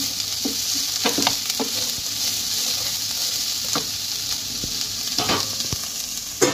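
Peas and mixed vegetables for veg fried rice sizzle steadily in a frying pan, with a spoon scraping and stirring in short, repeated strokes over the constant hiss.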